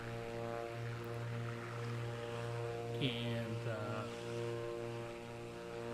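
A steady aircraft engine drones in the flight simulator game Microsoft Flight Simulator 2024, a constant tonal hum with layered harmonics that holds evenly throughout, with a brief chirp midway.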